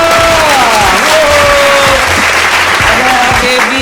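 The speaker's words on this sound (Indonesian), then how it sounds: "Langsung aja kita akan langsung berikan tepuk tangan yang paling meriah." A large event crowd gives loud, sustained applause and cheering as guests are introduced on stage, with tonal music and amplified voices mixing in over the dense clapping.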